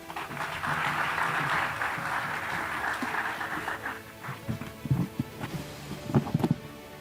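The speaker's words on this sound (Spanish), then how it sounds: "Un aplauso para ellos." An audience applauds after an awards panel on sustainability in business, a broad wash of clapping for about four seconds that thins into scattered, closer claps.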